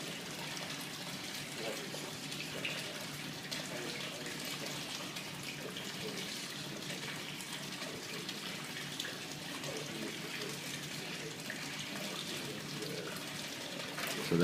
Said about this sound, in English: you should see the water flow coming out of the drain tube cut off shortly after that